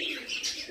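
Teddy pigeons in a loft give soft, continuous cooing with higher chirpy notes, close and fairly quiet, with no voices.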